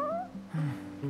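A stray cat in the video game Final Fantasy XV meows twice in quick succession, clear and close, with a soft game soundtrack or ambience underneath and no talking.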